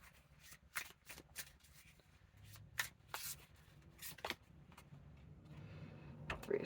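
Tarot cards being shuffled by hand, a series of crisp riffling flicks and soft slaps at close range, irregular in rhythm, in a quiet room.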